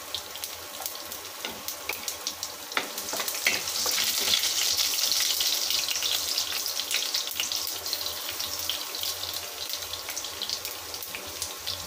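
Green chillies, thinly sliced garlic and popped mustard seeds frying in hot oil in a pan, a steady close sizzle with scattered crackles and spits that swells in the middle of the stretch, with no talking.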